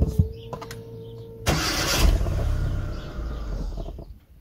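A Hyundai Accent engine with its fuel pump disconnected cranks over from about a second and a half in, a steady grinding whir that keeps turning without catching, then fades.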